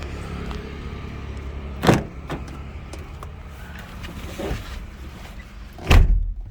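Car doors thump shut twice, a few seconds apart, as someone climbs into the cabin of a 2009 Mitsubishi Outlander 2.4 petrol SUV, with soft rustling and handling noises in between.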